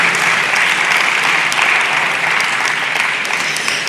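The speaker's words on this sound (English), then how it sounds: "Give her a round of applause." A forum audience on climate change adaptation gives a speaker warm applause, dense and even clapping from many hands that holds steady throughout.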